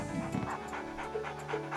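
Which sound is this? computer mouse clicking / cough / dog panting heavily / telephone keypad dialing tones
dog panting heavily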